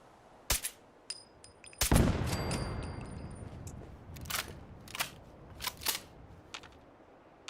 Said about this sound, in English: Now there is another turret right there.